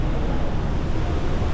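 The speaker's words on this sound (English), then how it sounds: "all you can hear is the thunder of this powerful waterfall echoing through the caves here" A powerful waterfall thunders through mountain caves in Switzerland's Lauterbrunnen Valley, a loud, unbroken roar with a deep rumble that fills the whole moment.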